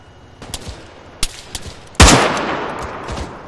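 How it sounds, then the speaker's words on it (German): Gunshots in a video game: a few soft, scattered pops followed by one loud, sharp blast whose noisy tail slowly fades, with no talking. "Schuss."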